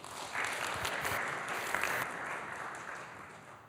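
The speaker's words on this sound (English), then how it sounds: "round of applause" Soft, somewhat distant applause from a room of attendees at a startup members' breakfast event, swelling quickly then fading gradually over a few seconds, with no voices over it.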